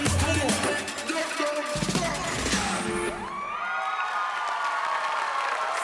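Audience at a live show with a band cheers, whoops and applauds loudly, a dense burst of clapping and shouts that carries on steadily throughout.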